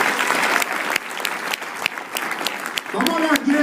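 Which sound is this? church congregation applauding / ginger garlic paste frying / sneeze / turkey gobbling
church congregation applauding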